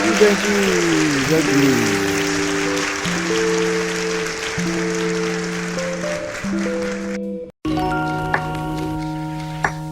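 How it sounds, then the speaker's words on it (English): Applause and cheering rise over a steady musical tone with held notes, then a brief cut and a chime-like jingle as the music shifts. "Round of applause"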